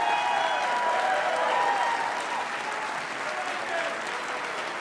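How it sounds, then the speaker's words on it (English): Live event audience at a Reno show applauding, a dense wash of clapping from a crowd that holds steady then eases slightly as it fades, with no talk over it. "I don't have time for any more applause."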